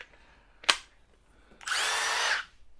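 A Milwaukee M18 Sawzall reciprocating saw powered through a corded battery extender gives a sharp click, then a short loud burst of motor running for under a second before winding down.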